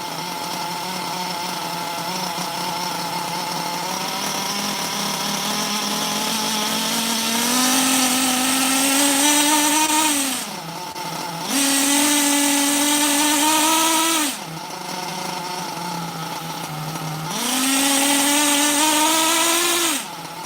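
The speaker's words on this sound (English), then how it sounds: "That might be my best idle I've ever had." A small nitro RC truggy engine runs steadily with a buzzing idle, rising in pitch three times into short revs that cut out abruptly and settle back. It sounds close and loud, with no talking.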